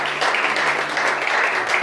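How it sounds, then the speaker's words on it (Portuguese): A church congregation claps in praise with a loud, even, sustained wash of many hands, unbroken and without talk. "Nós te agradecemos com palmas."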